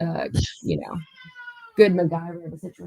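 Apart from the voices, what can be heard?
pet cat meowing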